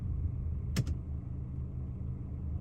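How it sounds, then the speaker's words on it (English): A 2021 Mercedes GLC 300d diesel idles as a low, steady rumble, interrupted by a brief sharp click or clunk near the start. "I'm going to start the car up and then put the lights on"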